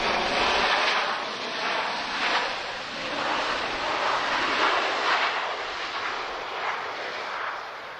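A Ryanair airliner arrives at Lisbon Airport, its jet engines a steady, broad roar heard from a distance that swells and ebbs slightly over several seconds with no voices.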